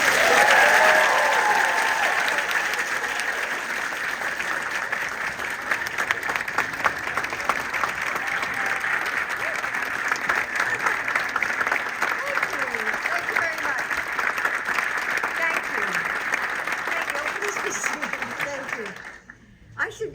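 Sustained audience applause at an AON event in Chicago welcoming First Lady Jill Biden, loud and steady for most of the stretch before fading out near the end, with no speech over it.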